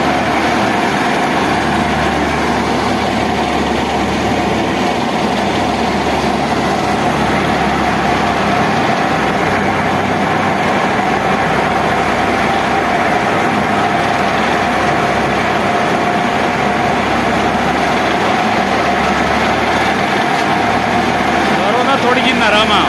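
A tractor-powered thresher harvests slightly damp black mustard seeds, making a loud, steady mechanical drone with a low engine hum. Voices talk over the machinery.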